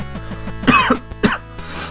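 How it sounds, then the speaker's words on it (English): A few rough, throaty coughs come close to the microphone in quick succession, then break off into a brief exhale, with no talking. "I'm coughing today."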